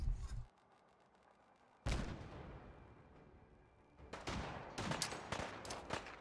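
Gunfire in a Fallout 4 Far Harbor fight with raiders: a sharp burst at the start, a loud blast near two seconds with a long decaying tail, then dense rapid shots clustering after four seconds, close and loud.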